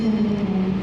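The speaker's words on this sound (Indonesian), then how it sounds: "di sini terparkir ada kereta api Berantas teman-teman, yang terparkir di stasiun Blitar" Berantas train parked at Blitar railway station, a short steady low engine drone with a droning hum, heard alone and close.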